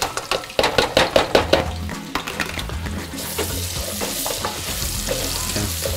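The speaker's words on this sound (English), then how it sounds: "add the bacon fat back in it, and I'm gonna add my onions" Half a chopped onion, about three-quarters of a cup, dropped into hot bacon fat, opening with a quick run of rhythmic scraping and stirring knocks, then settling into a loud, continuous close sizzle with no talking.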